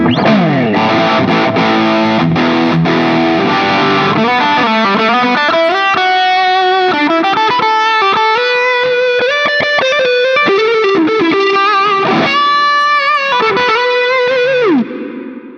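Electric guitar through a Shark Rock You Drive distortion pedal plays a run of gritty, sustained notes and chords for about fifteen seconds, loud and upfront with no talking.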